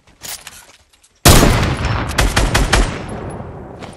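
In the video game Fortnite, assault rifles fire a sudden loud volley, with rapid overlapping shots that fade out slowly, after a few faint earlier cracks.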